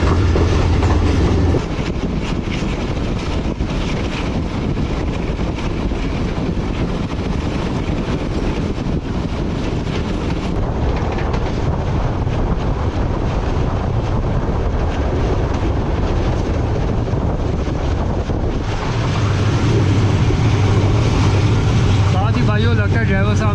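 Badar Express heard from just behind the locomotive as it runs toward Faisalabad, a loud steady rumble of wheels and carriages with rhythmic rail clatter throughout and a deeper engine drone rising near the end.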